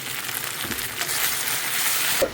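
Food is stirred in a hot pan after salt is added, giving a steady frying sizzle with soft stirring and scraping sounds, close and continuous, ending with a small clink.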